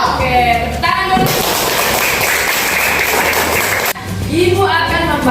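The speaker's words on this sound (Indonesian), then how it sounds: "Oke, tepuk tangan dulu." A class of young schoolchildren claps together in a loud, dense burst of applause lasting about three seconds, with a teacher's voice and children's voices before and after.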